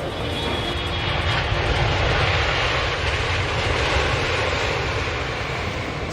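An airplane lands at Kuala Namu airport in Medan, filling the clip with a loud, steady engine roar and broad rushing noise that holds for six seconds without a pause.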